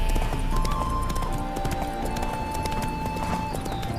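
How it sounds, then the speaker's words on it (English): Steady clip-clop of horse hooves in the video game The Witcher 3: Hearts of Stone, at a walking pace, close and continuous, with an occasional snort over a low ambient background. "Spooking my horse."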